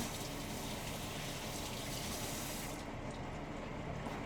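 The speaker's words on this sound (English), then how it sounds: "Wash my hands." Tap water runs steadily into a kitchen sink while hands are washed during cake baking, a soft continuous gush that stays even and fairly faint throughout.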